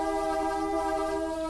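A modded Class 375 train horn in a train simulator game sounds as one loud, sustained multi-tone chord, steady and unbroken throughout with no talk.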